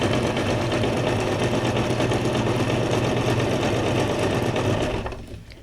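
Sewing machine stitching fabric scraps, running continuously at a fast steady rhythm up close before slowing and stopping at the end.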